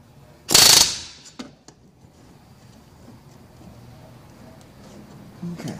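Loud single rivet strike as an aluminium cover is riveted over an aircraft wing tank, a sharp metallic burst followed by a couple of fainter taps and low workshop noise.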